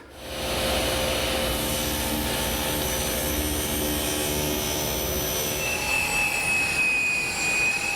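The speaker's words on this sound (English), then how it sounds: "my table saw. It's a tool that I couldn't do without here in the shop." A table saw runs steadily in a workshop, a loud continuous whine and roar as it trims a wood panel to length for a kitchen pantry, holding even for several seconds with no talk.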